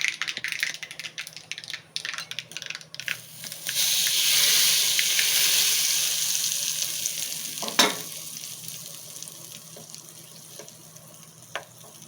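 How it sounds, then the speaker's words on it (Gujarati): Hot tempering poured over coconut chutney in a bowl crackles into a loud, bright sizzle that swells and then gradually fades, with a sharp clink of a spoon or pan in the middle and no talking. "જે આપણે ચટણી બાઉલમાં કાઢી છે એના ઉપર આ વઘારને રેડવાનો છે"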